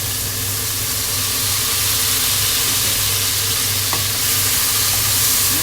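Crabs and scallops frying in a pan just after soy sauce goes in, a loud dense continuous sizzle and hiss close by, steady throughout with a single faint clink, no talking.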